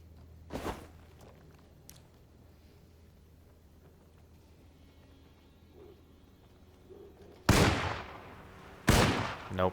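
Pistol shots ring out in the video game Alone in the Dark 2024. A single sharp crack comes early, then two loud shots a short interval apart near the end, over a quiet, low ambient hum.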